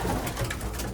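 Racing pigeons cooing inside a loft, a dense, close murmur of soft coos from many birds layered together over a short stretch, with no talking.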